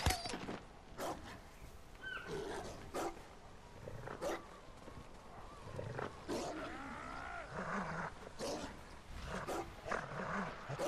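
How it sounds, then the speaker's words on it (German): Several dogs barking in the Ghost of Tsushima video game, repeated growls and barks with some snarling roars, overlapping and fairly close amid game ambience. "Ziemlich viele Hunde."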